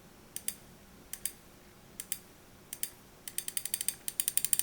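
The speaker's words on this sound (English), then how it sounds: "Even the sound of the switch is way closer to the regular mechanical ones." Crisp mouse button switch clicks from a Pulsar X2 CrazyLight with optical switches, heard alone: paired click-release pairs at first, then a rapid run of spammed clicks near the end, close and sharp.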